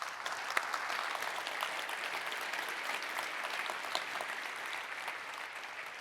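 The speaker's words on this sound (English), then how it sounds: "let's give a round of applause really quick for them." Conference audience applauding the volunteers at a keynote, a broad, even patter of many hands clapping, moderately distant and sustained throughout with occasional sharper claps.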